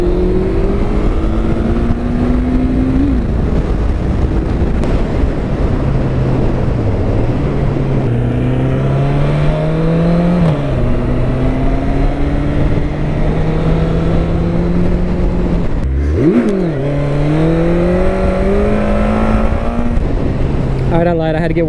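Honda CB1100 motorcycle engine revving up and down in long sweeping pulls, loud and close, the pitch rising and falling several times over a continuous roar.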